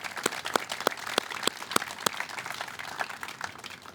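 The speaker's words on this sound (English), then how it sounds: "we should all give you a round of applause right now" At a 9/11 Patriots Day ceremony, a crowd gives a round of applause for first responders: steady, moderately distant clapping with a few loud, regularly spaced claps standing out near the front.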